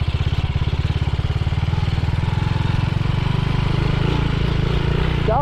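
A motorcycle engine drones steadily and loudly while climbing uphill on the Ijen mountain route, with a continuous low throb throughout and no speech.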